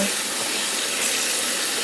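Cold water pours steadily from a tap into a basin being filled to soak a yarn project, a loud, even rushing hiss that holds close and unbroken throughout with no voices.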